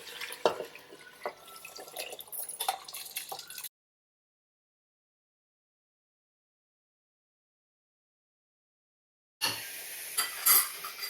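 Soaked rice and its water, at two glasses of water per glass of rice, pour and splash into a rice cooker for a vegetable biryani, with close, faint trickling and clinks, a silent gap, then more splashing.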